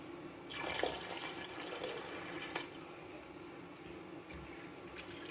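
More water splashes into a pressure cooker at home, a quiet, continuous pouring rush that swells briefly early on and then runs on evenly for about five seconds.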